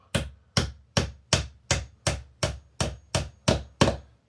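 A hammer drives a nail through drywall toward a brick wall behind it, striking ten sharp, evenly spaced taps at a steady rhythm, close and clear with no talking.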